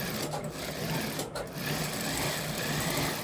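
A sewing machine runs continuously while stitching a shirt panel in a tailoring shop, a close, dense, steady mechanical whir with one brief dip in the middle.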